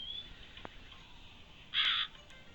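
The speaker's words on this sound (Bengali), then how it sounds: "এই কাকটা আমারে ধরতে আসতেছে" A crow in the Bangladeshi video game Meena 2 gives a single loud, harsh caw partway through, standing out against a quiet, faintly hissing background with no speech.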